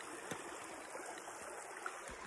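River water flows steadily with a soft, continuous wash and faint trickling, close by and alone, with no voices over it.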